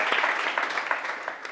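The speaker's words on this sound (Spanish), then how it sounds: "Por favor, un aplauso para Daniel y el instituto que representa" An audience at a talk on leadership applauds, a brief, dense round of clapping heard fairly close, steady throughout and then cut off abruptly.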